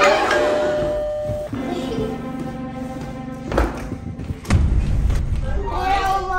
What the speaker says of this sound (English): stop ringing that doorbell like that